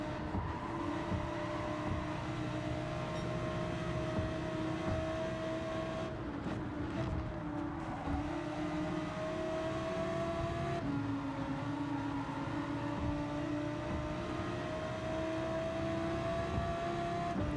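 Race cars in Gran Turismo 7, a Ferrari among them, hold a steady high engine whine that rises and dips through gear changes as the pack drives on, a continuous loud drone with no speech.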